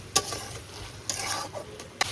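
Fried catla fish head going into cooked cabbage masala in a pan, with a soft sizzle and a few sharp utensil clinks and scrapes at close range.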